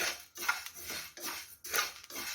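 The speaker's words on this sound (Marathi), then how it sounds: "भाजून घेत आहोत तर तुम्ही बघू शकता मेथी अशा चटचटचट उडा लागली" Fenugreek seeds dry-roasting in a pan on a gas stove, giving off repeated bursts of crackling and popping in a steady rhythm, close and fairly quiet, with no voices.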